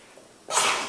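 A single sharp sneeze bursts out after a short quiet pause, loud and close, its hissy blast trailing off in under half a second.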